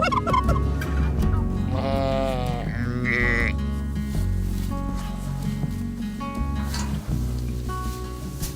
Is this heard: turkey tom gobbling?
yes